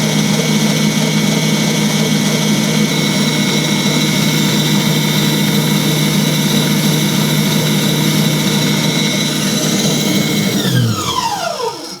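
An Aldi Ambiano stand mixer motor runs loud and close, a steady strained whine with a constant pitch that winds down and drops off at the end.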